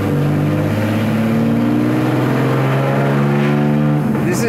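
A loud Nissan 240Z salt flats racecar engine drones and revs, its pitch climbing steadily before a gear shift near the end, heard from inside the car.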